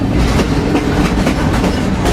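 A freight train rolls through a rail junction in New Orleans, with a loud, close, continuous rumble and clattering wheel noise. No one speaks.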